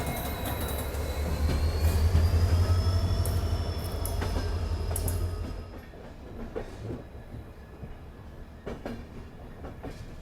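A diesel locomotive from the Abu Road shed rumbles past with a deep engine drone and rolling wheel noise, a thin wheel squeal riding above, then the heavy rumble drops away leaving faint clanks.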